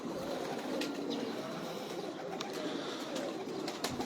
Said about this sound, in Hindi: शाह जी उड़ा रहे ने कबूतर